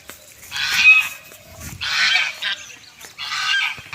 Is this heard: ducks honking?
yes